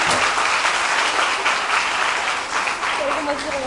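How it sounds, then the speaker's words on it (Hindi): Hearty audience applause at a motivational speech, honouring people who have contributed to nursing; a dense, loud, continuous wash of many hands clapping from start to finish. "हम चाहते हैं आप लोग दिल खोल के तालियां बजाइए"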